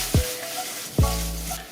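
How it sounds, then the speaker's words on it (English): Chopped bacon sizzling in a hot pan, a steady bright hiss broken by two low thuds about a second apart, close with no voices. "I'm going to add a little bit of chopped up bacon to it."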